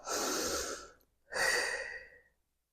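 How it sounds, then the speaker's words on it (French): Two slow, audible breaths, a long airy exhale followed by another after a short pause, close and soft. "Ensuite, la respiration sonore."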